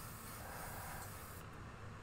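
An airbrush sprays brown paint onto a fishing lure held against a scrap of paper behind the gill plate, giving a steady, quiet, continuous hiss that runs unbroken for the whole moment.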